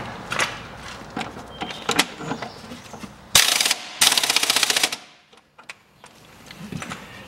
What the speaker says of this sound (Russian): Попробую пистолетом открутить.